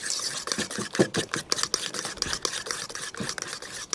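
Custard powder being mixed into custard in a bowl for a berry custard scroll, heard as a steady run of quick scraping, stirring strokes close by, with no talk.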